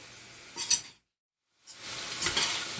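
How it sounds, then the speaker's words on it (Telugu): Vegetables fry in a pan for gongura vegetable biryani, a close, steady sizzle with a few stirring clinks; the sound drops out completely for about half a second in the middle before the sizzling resumes. "ఓకే, ఇది వేగుతుందండి."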